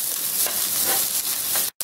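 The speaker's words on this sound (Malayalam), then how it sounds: "നെയ്യ് ഇപ്പോൾ ചൂടായിട്ടുണ്ട്. അതിലോട്ട് നമുക്ക് 1 കപ്പ് തേങ്ങ ചേർത്ത് കൊടുക്കാം." One cup of grated coconut sizzles in hot ghee, a steady close frying hiss with a brief cut near the end.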